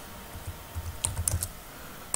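Light tapping on a computer keyboard while entering an indicator name into trading software, a few soft, quick keystrokes clustered close together, quiet and close with no voices.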